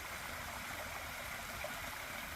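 Mountain stream water flows steadily beside a hiking trail, a continuous broadband rushing wash that stays even and fairly close throughout with no talking.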